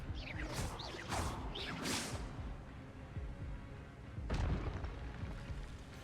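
Spell effects being cast in the Hogwarts Legacy video game: a rapid series of whooshing, crackling bursts in the first two seconds, then a single heavier boom-like impact around the middle, set against a steady game soundscape.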